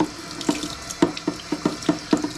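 Aquarium filter tubes scrubbed with a sponge under a running tap, steady water flow into a sink with a series of sharp, rhythmic squeaky rubbing strokes, close by and without speech.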